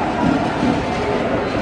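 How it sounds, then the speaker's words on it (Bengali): A train pulls into a station platform with a steady, close, broadband rumble lasting under two seconds, and faint voices murmur underneath. "ট্রেন ঢুকে গেছে প্ল্যাটফর্মে,"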